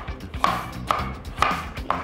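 A kitchen knife julienning peeled carrots on a cutting board, with crisp, evenly spaced taps about every half second against a low background hum.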